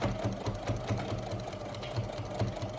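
A sewing machine stitches through a rag quilt of layered cotton, flannel and cotton, giving a quiet, fairly distant rapid chatter of needle strokes with soft low thumps that pulse slightly throughout.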